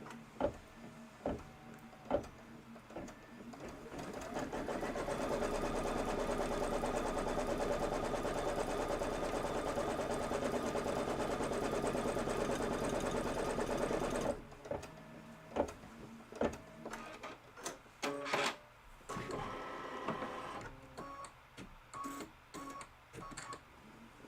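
An embroidery sewing machine stitches a tack-down line on fabric, a steady loud mechanical whir lasting several seconds, then stopping into scattered clicks and handling noises.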